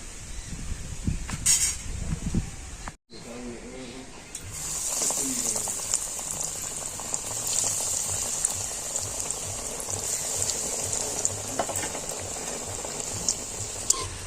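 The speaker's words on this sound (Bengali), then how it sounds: "তেল গরম হয়ে গিয়েছে আর এখন আমি নাস্তাগুলো ভেজে নেব" Bread snacks deep-fry in hot white oil in a kadai, a steady bubbling, hissing boil of oil that settles into a constant close-up roar after a brief pause and some rustling handling at the start.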